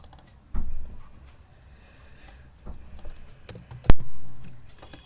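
A computer keyboard being typed on while code is written, a few short bursts of clicky keystrokes with quiet gaps between, close and fairly loud, with one sharper thump near the end and no talking.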